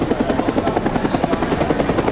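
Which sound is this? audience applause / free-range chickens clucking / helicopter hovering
helicopter hovering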